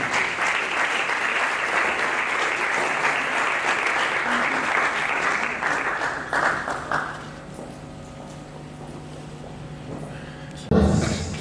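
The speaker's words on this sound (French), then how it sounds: "On les applaudit comme ça." An audience applauds debaters at a university debate event, sustained clapping that fades after about seven seconds, followed by quieter room sound and a brief thump near the end.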